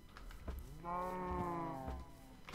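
A single drawn-out cow moo from the blocky farm game Minecraft, a low harmonic bellow lasting about a second, clear and close with small ambient clicks before and after.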